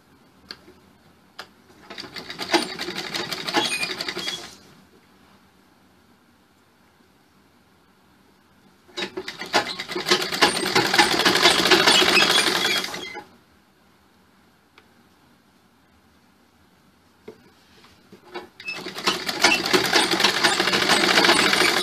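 Sewing machine stitching the sleeves of a blouse, running in three separate bursts of a few seconds each with quiet pauses between, fairly close and with no talking.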